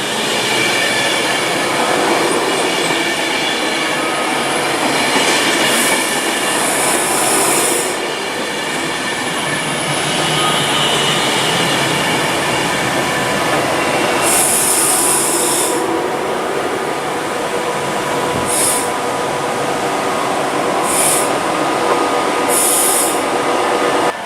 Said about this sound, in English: Now departing is 390-134, the City of Carlisle, bound for London Euston only